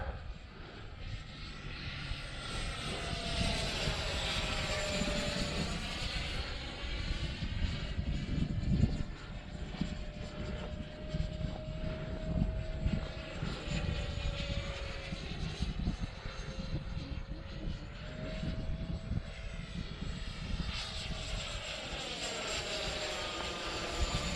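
A Freewing F-16 Arctic RC jet flies in gusty wind, its ducted-fan engine whine steady and fairly loud throughout, with the pitch drifting up and down as the model passes and turns.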